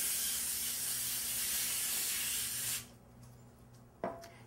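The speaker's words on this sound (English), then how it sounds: "I'm going to spray the pan with some cooking spray." Cooking spray hisses from a can onto a square baking pan in a steady broad burst of nearly three seconds, close and fairly loud, then stops, followed by a quiet pause and a short knock near the end.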